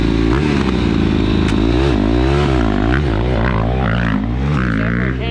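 Motorcycle engine running loud and close during a 600cc street kart build, a throaty rumbling idle with shifting revs rising and falling throughout, no voices.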